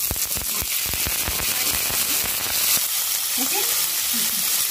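Onion dropped into a frying pan with hot oil and garlic cloves, a loud, dense sizzle with sharp popping crackles at first, then a steady hiss with light stirring.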